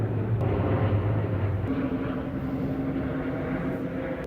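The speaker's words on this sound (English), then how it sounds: "We have some planes passing." Airplanes passing overhead above a Tokyo rooftop, a steady droning engine rumble with a shifting tone, heard alone at moderate distance.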